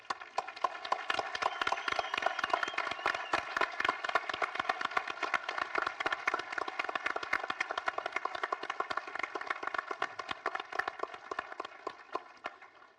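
Audience at the Türksat 6A satellite launch event bursting into sustained applause, dense rapid clapping from a large crowd, steady and loud throughout with no voices standing out.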